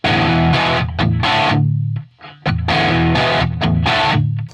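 Heavily distorted electric guitar chords from a rhythm riff ring out loud, then are chopped off abruptly with a short muted chunk, leaving brief gaps before the chords return.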